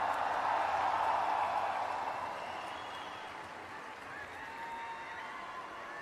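Audience applause for Sadhguru at a Save Soil event in Delhi, a broad wash of clapping that starts fairly loud and steady, then thins and softens toward the end.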